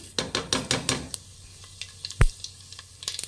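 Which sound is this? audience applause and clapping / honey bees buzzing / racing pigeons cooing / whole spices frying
whole spices frying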